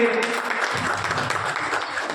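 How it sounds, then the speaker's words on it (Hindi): Applause from an audience at a school award ceremony, a dense, steady burst of clapping lasting a couple of seconds, loud and close, with no voice over it. "जोरदार तालियों की गड़गड़ाहट जारी रहे।"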